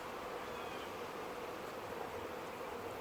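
Honeybees buzz softly and continuously around a beekeeper's hands at an open hive frame, a faint, steady hum from a swarm close by.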